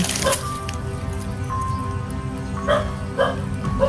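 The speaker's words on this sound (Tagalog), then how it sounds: "Pakinggan niyo yung aso mga kaibigan." A dog barks a few times at a distance, short yaps spaced irregularly over a steady low background hum.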